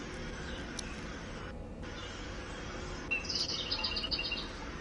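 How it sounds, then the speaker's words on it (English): Birds chirp faintly over a steady background hiss, with a brief cluster of high bright tweets standing out near the end. "I like the birds."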